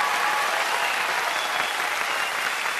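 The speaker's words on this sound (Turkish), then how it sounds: "Beni alkışlıyorlar" A theatre audience applauds a Turkish stage comedian, dense, even clapping filling the whole stretch, loud and continuous with no break.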